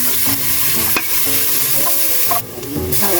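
Garlic for chicken tinola sautés in a pan, with a loud close sizzle broken by repeated scraping stirs of a utensil against the pan.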